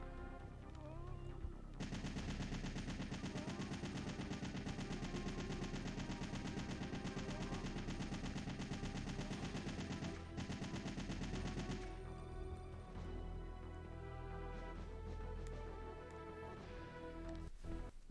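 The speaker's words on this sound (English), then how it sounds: "may as well use our assault rifle." Assault rifle fire in the video game Resident Evil 3: Nemesis, a loud sustained burst of rapid automatic shots lasting several seconds, followed by scattered game sounds and lighter clatter.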